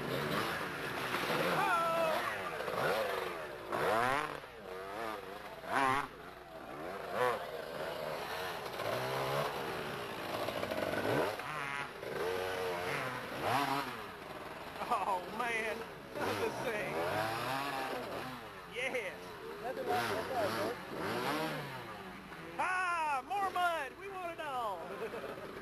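Dirt bikes racing in a 1994 hare scramble at Lake Nimrod, Arkansas, ISDE qualifier: engines rise and fall as motorcycles pass at varying distances, heard under frequent excited talking from nearby spectators.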